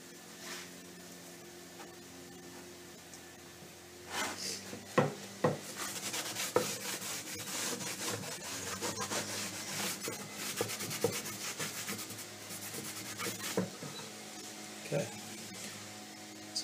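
Pallet wood boards being sanded down to bare wood for a fall pumpkin decoration, giving repeated rough rubbing strokes that grow louder after a quiet start, with a faint steady hum underneath.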